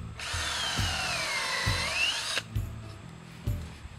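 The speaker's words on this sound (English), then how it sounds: "So we drill in probably about 2 inches into the tree." A power drill whines at a high, wavering pitch as it bores into a tree trunk, then stops abruptly, followed by a few dull knocks.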